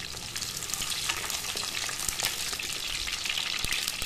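Whole shallots and garlic fry in a pan for a fish curry, making a soft but constant crackling sizzle with occasional sharper pops.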